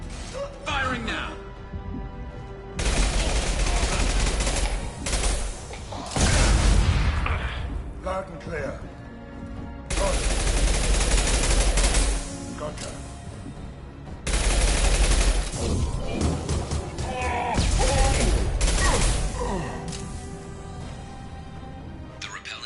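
Heavy sustained gunfire in the sci-fi shooter Mass Effect 2 comes in several long, loud bursts separated by short lulls, with voices speaking briefly between volleys.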